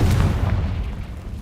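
Spell explosions from the Hogwarts Legacy video game, Bombarda and Confringo: a deep rumbling boom with bursts near the start, fading into a low rolling roar.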